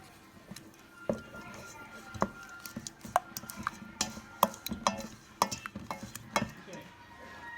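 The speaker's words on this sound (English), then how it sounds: "So we're going to mix it up." Homemade bread leaven is stirred with water in a bowl, with soft irregular knocks and clinks of a utensil against the bowl, close and fairly quiet.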